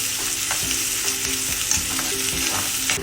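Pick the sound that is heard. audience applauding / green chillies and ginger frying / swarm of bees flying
green chillies and ginger frying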